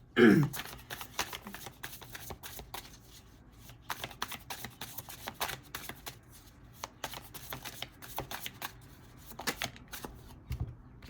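A deck of tarot cards is shuffled repeatedly up close, a steady riffling patter of card edges with a louder flick at the start and another near the end, no speech.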